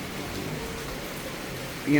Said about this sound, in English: Grateful for the rain, always grateful for the rain